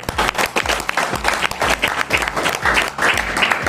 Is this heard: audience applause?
yes